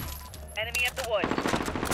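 Bursts of gunfire in Call of Duty Modern Warfare, loud rapid shots layered with game effects and a sweeping tonal sound, firing continuing steadily toward the end.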